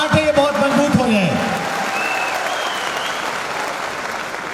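A crowd at a seminar claps together, the applause swelling in under a voice that speaks briefly at the start, then holding as a steady, close wash of clapping to the end.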